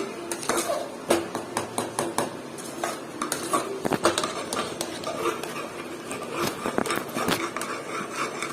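Puran poli filling is stirred in a pan, with a spoon repeatedly clanking and scraping against the metal in an irregular rhythm, close and fairly loud, no speech.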